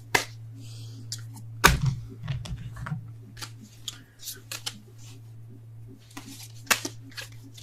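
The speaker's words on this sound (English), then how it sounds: "Damn it, and I can't shuffle either." Tarot cards being shuffled by hand: soft, irregular riffles, flicks and taps scattered across the stretch, fairly faint over a steady low hum.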